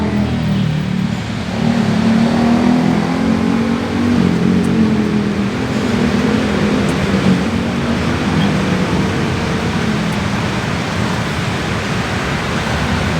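Steady, loud roar of heavy road traffic, cars and buses, on Quezon Avenue, Metro Manila, engines rumbling continuously, vehicles passing close without pause; no voices.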